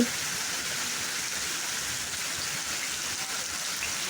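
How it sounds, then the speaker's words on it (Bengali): Steady rain falls continuously and fairly close, a dense, even hiss of drops on surfaces with no talking over it. "দেখো বৃষ্টির শব্দ এত ভালো লাগে"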